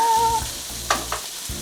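A thinly cut ribeye steak sizzles in a pan in a short, fairly loud burst of hissing, with a couple of sharper crackles and no talking.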